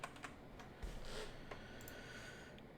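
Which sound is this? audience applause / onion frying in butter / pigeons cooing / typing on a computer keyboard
typing on a computer keyboard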